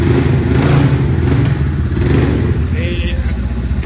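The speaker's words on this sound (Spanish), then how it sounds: "le vamos a dar arranque a la moto" A Daytona Super Wolf 300 motorcycle engine running close by, a steady loud low rumble throughout with slight revving, sometimes under a voice.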